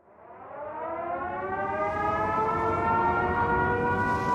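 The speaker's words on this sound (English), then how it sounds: "all of a sudden I heard the siren go off" A tornado warning siren in Joplin winds up from silence and holds a long, rising wail, steady and fairly distant, with no voices.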